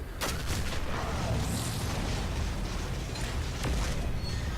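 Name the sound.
missile explosions in a video game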